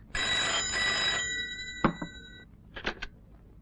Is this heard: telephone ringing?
yes